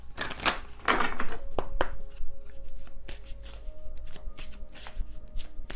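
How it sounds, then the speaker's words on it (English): A Secret Moon Oracle card deck being shuffled by hand up close, with loud riffling bursts followed by quicker repeated card slaps and flicks, no speech. "I'm using my Secret Moon Oracle deck here."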